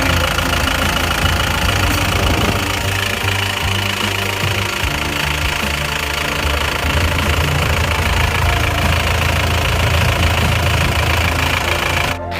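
A rebuilt Isuzu Panther pickup engine runs after an overhaul, a loud, steady idle with a continuous knocking rumble throughout. No talk.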